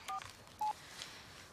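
Two short touch-tone beeps sound as a telephone number is dialed, faint and close in a quiet room.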